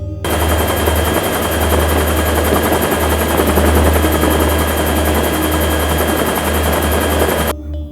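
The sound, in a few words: Mi-17 helicopters flying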